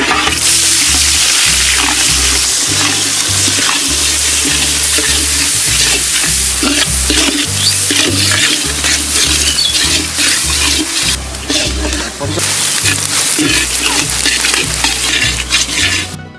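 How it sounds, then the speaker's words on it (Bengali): Onions stir-fried in a large pan, being browned for fried rice cooked for fifty children: loud, continuous sizzling and scraping of the spatula, with a steady low burner roar underneath. "আমাদের পেঁয়াজটা বাদামি বাদামি করে আমরা ভেজে নেব।"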